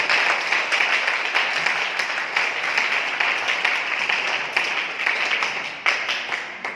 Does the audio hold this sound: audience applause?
yes